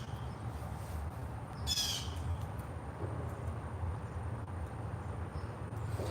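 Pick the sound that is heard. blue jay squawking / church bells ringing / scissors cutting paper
blue jay squawking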